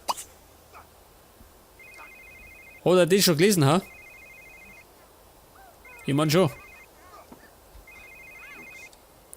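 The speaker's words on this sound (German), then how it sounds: "Oh Gott, das ist ein Telefon." A telephone rings in The Sims 3 life-simulation game, repeated electronic trill bursts recurring at steady intervals, with someone talking loudly over it in between.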